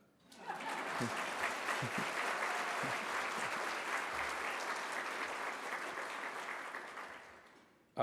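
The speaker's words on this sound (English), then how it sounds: "We can applaud on that." An audience at a public conversation event with a US senator breaks into steady applause that swells quickly, holds evenly for several seconds and then fades, with no voices over it.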